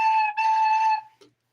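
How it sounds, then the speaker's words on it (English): A penny whistle tuned in C sounds one clear, loud, steady note with a brief dip partway through, then stops, followed by a faint short squeak. "I got a penny whistle."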